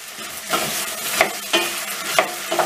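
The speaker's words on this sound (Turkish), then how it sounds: "Bu şekilde bir güzel kavuracağız." Diced potatoes sizzle steadily in a hot pan, close up, while a utensil scrapes and stirs them in regular strokes about every half second.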